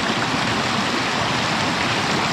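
Rushing river rapids pour below a beaver dam that is washing itself out, tearing loose sticks; a steady, dense roar of churning water fills the whole moment, close and loud with no voices.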